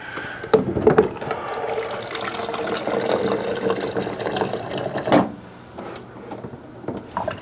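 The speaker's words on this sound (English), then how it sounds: "a little bit of cold, and a splash of hot. So this is roughly like 8-ish ounces of water." Tap water runs steadily into a container, a mix of cold and a splash of hot measured out for a morning greens drink, with a brief clatter partway through and the flow easing near the end.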